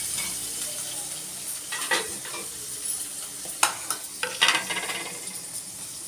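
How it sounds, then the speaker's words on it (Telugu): Onions frying in a pan while cooking stuffed brinjal, a steady close sizzle broken by scraping stirs and light clinks of a spatula against the pan, with no talking. "ఈ ఉల్లిగడ్డలు బాగా వేగాలండి"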